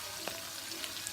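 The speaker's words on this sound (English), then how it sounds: "my oil is on the fire doing its own thing" Oil heating on the fire for a fisherman stew, crackling and sizzling steadily with dense fine pops, heard close and alone.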